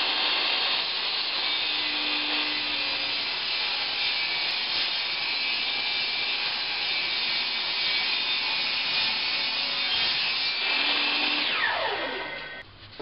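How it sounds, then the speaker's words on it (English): A table saw cuts a long strip of MDF with a steady, loud high-pitched whine and grinding hum for most of the clip, then spins down with a falling pitch at the end. "I'm going to start off by setting my fence here to 5 3/4, and I'm just going to cut a strip"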